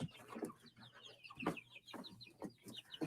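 Backyard chickens cluck in short, irregular bursts, close and moderately quiet, alongside faint peeping bird calls and no talking.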